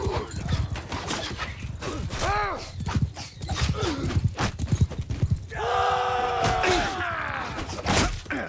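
Horses in a Mount and Blade Bannerlord battle clatter in a steady galloping rhythm, with a few whinnies and other voices and noises mixed in over a busy battlefield din.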